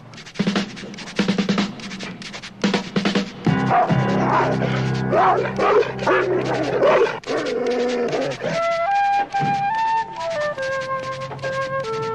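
Several dogs bark, yip and whimper in a film bank-robbery scene. The barking sits over busy music and effects, with a rapid mix of close yelps and sharp barks, and a faint voice now and then.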